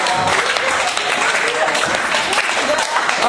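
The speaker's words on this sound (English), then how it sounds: "Keep clapping." A group of people clapping their hands together continuously, a dense, loud, steady wash of claps with no pause, as partners face each other in a room.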